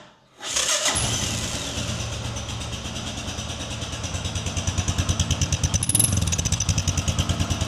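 An 800cc single-cylinder motorcycle with an electric decompressor cranks and fires up, settling into a loud, steady thumping idle whose pulses grow more distinct toward the end.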